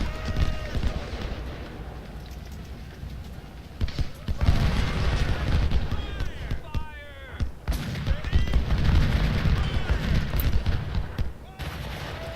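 Musket volleys crackle from the Union side of Chickamauga in Ultimate General: Civil War, dense bursts of gunfire in rough waves over a steady battlefield din, with a lull near the middle before the shooting picks up again.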